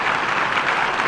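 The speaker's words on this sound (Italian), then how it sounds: "Applaudite, applaudite." An audience applauds at a live television show, dense steady clapping throughout, loud and close.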